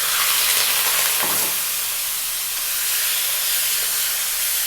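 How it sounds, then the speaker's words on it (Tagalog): Marinated goat meat fries in hot oil in a wok, giving a steady, loud hiss and sizzle that runs throughout with a brief burst of crackle near the start. "a little bit of oil into a nice hot wok. The marinated meat goes in."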